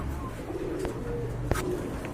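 Pigeons, a pair of Rajshahi Giribaz birds, coo softly in low murmurs amid a noisy background, with a couple of brief sharper sounds breaking through.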